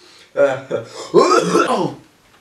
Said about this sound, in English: Do you mind not coughing on me?